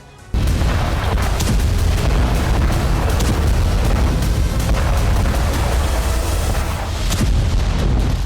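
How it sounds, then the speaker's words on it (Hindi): A blast tied to explosions in the Iranian city of Qom, where a housing complex was destroyed, erupts suddenly into a loud, sustained roaring rumble with crackling bursts, continuing without pause and with no voices. "सबसे पहला धमाका ईरान के कोम शहर में हुआ।"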